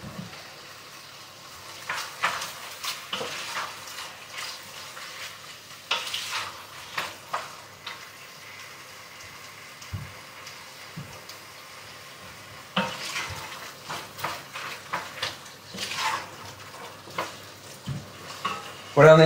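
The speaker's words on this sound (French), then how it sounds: "on a une préparation déjà qui est en train de mijoter" Lamb sauté simmering in a pan, a steady soft sizzle and bubbling with intermittent stirring and scraping of utensils against the pot, close and moderately loud, with no voices.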